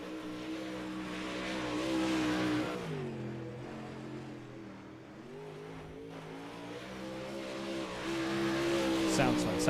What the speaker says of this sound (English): Ben Kriener is now starting his qualifying run